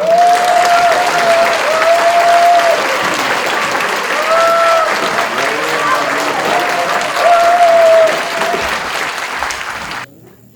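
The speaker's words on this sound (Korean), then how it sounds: "우리 황교안 총리님을 큰 박수로 맞이해 주십시오" An audience at a Korean literary newspaper's anniversary ceremony and year-end hanbok poetry recital festival applauds to welcome former prime minister Hwang Kyo-ahn, a dense, steady wash of clapping that fades out at the end, with a few tonal notes over it.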